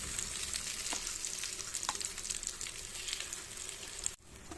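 Egg and carrot paniyaram batter frying in an oiled paniyaram pan, a steady close hiss and crackle of sizzling oil that holds evenly before a sudden dip near the end.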